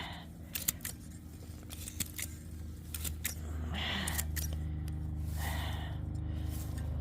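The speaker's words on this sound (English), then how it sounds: "all this needs to be scissor trimmed just like this" Scissors trimming long, overgrown grass outdoors, making a series of sharp, close snips at an irregular rhythm over a steady low background hum.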